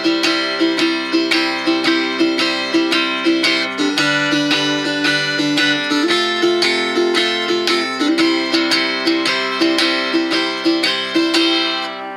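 Steady strummed chords on a bright-sounding tenor guitar, moving through a twelve-bar blues progression in an even, rhythmic pulse, with no voices.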